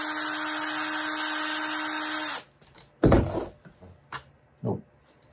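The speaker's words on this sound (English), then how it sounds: "I'm gonna put this on the drill" Power drill undoing a screw on an ARRMA Outcast 8S EXB RC car, a loud steady whir that runs for about two seconds and stops, followed by a few scattered clunks and taps of handling.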